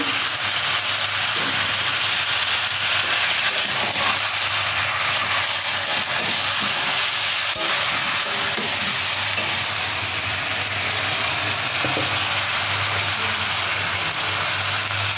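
Taro and spinach curry sizzling and frying steadily in a pan while being stirred, a continuous close hiss with faint scraping, no voices.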